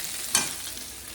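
Potatoes fry in a pan before going into a prawn gravy. A brief, sharp, close hiss flares up and then fades into a steady soft sizzle, with no voices.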